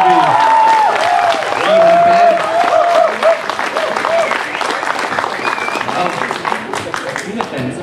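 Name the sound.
audience applause for a young singer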